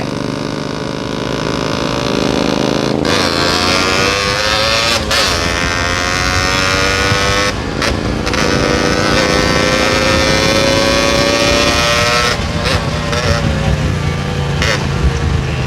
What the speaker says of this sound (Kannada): ಯಾವುದೋ ಗಾಡಿ ಬರ್ತಿದೆ ಜಿ ಟಿ